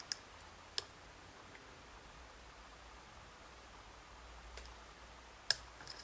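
A few faint, sharp clicks from the pins of an Azbe HS7 lock being picked, spaced irregularly over a quiet background hiss.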